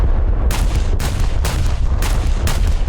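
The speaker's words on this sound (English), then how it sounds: "Firing before the fire control system tells us where to shoot" Heavy cruiser Scharnhorst's guns fire armor-piercing rounds in a naval video game, five booming shots evenly spaced about half a second apart over a loud continuous rumble.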